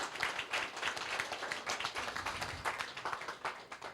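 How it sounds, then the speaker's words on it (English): An audience applauds at an event in St. Kitts and Nevis, a moderate burst of many hands clapping at once, fairly even and sustained, heard from a distance with no speech over it. "I think we need to give him a round of applause."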